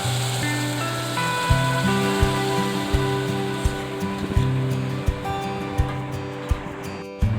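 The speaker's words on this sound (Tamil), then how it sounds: "அரைச்சி கலந்து வச்சுருந்தோம்ல அந்த மோரை வந்து இந்த டைமில் ஊற்றிடணும்" Buttermilk poured into a pan of sautéed onions for mango mor kuzhambu, giving a steady broad sizzling hiss with soft splashy pouring and occasional small knocks, close and continuous, with no talking.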